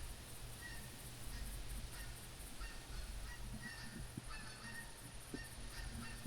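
A flock of geese honks in a hunting video game set in a forest reserve, the calls scattered and somewhat distant over a steady low ambient hum, with no speech.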